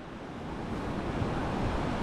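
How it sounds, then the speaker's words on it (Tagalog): Strong ocean surf pounds a beach during the habagat monsoon winds, a steady, dense roar of breaking waves with wind noise, continuous and fairly close, with no voices. "Ang lakas ng alon"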